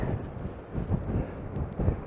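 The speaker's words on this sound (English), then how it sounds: "Now I'm going to get out of here because it is way too windy." Low, gusty rumbling of wind buffeting a microphone, uneven and muffled, with no voices.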